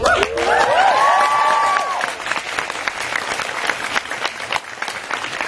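Audience applause at a Summer in the City 2014 panel, a sustained roar of clapping from a large crowd with a few cheers, tones sounding briefly over it at the start, then continuing steadily at a slightly lower level.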